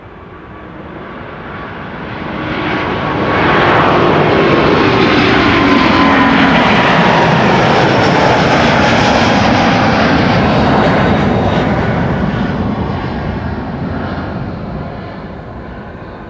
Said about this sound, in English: And the second A350 of Delta coming this way.